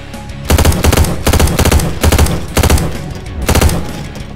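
Rapid bursts of automatic gunfire and shotgun blasts in the horror shooter Slendytubbies: The Devil Among Us on the Military Factory map, loud and close, coming in four or five dense volleys separated by short pauses.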